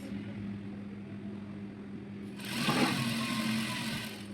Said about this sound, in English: you keep sewing on to the end of the fabric